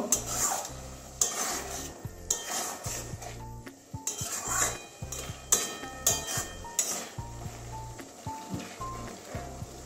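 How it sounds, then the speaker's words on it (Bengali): A utensil stirs kachki fish curry cooked with mustard in a metal pan, scraping and clinking in an irregular rhythm with a faint sizzle underneath, close and fairly loud, with no talking. "ভালো করে মিশিয়ে নেব।"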